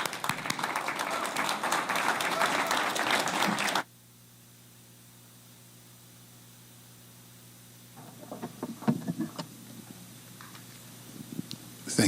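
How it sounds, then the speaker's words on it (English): An audience at a partnership event applauds, dense clapping for about four seconds that then stops abruptly, followed by quiet room tone and a few scattered claps. "Can we give a big round of applause"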